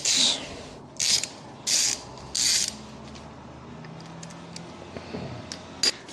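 A hand ratchet loosens the final drive fill bolt on a BMW R1200GSA motorcycle, giving four bursts of fast clicking, close and loud, then quieter rubbing and metal handling.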